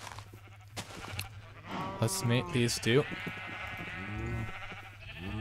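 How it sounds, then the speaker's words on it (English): Sheep in the multiplayer survival game Exile give several loud, wavering bleats, mixed in with a person talking steadily throughout. "let me grab some shears and shear the sheep"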